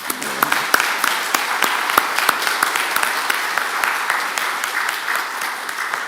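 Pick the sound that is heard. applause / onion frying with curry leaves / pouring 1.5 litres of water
applause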